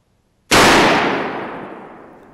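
A single loud rifle shot fired at a buck during Pennsylvania rifle deer season cracks sharply out of quiet. It rolls off into a long fading echo lasting about two seconds.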